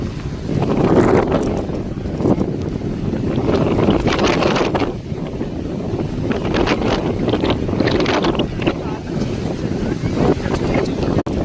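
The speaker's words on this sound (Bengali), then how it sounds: "এত হাওয়া দিচ্ছে যে কথা জড়িয়ে জড়িয়ে যাচ্ছে।" Strong sea wind at Shankarpur beach roars steadily and loudly against the microphone, a continuous buffeting rumble with gusty surges throughout.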